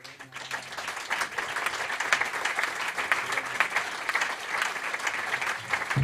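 Applause for a singer at a jazz concert with piano and trova, a hall audience clapping steadily and fairly softly throughout, heard from a moderate distance.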